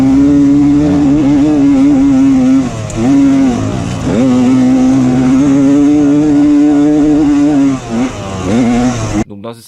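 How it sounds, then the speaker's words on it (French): A two-stroke 125 SX dirt bike engine held at full throttle drones with a loud, buzzy, wavering note that never climbs cleanly, stuttering and dipping briefly before cutting off near the end, with faint talk underneath. "le bruit déjà de la machine n'est pas normal quand j'ai la poignée en coin"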